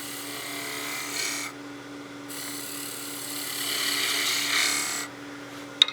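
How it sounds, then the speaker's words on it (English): A spindle gouge cuts waste wood from a Christmas gnome turning on a lathe, giving a steady, fairly loud scraping rasp over a constant motor hum, with the cut briefly easing off midway and a sharp click at the end. "to use my spindle gouge to remove some of this waste material here"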